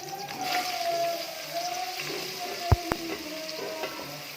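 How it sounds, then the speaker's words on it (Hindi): Capsicum sizzles in a little oil in a pan, giving a steady frying hiss with faint bubbling and a couple of sharp knocks of a utensil against the pan. "अब पैन में थोड़ा सा ऑयल लेंगे और उसमें डालेंगे शिमला मिर्च"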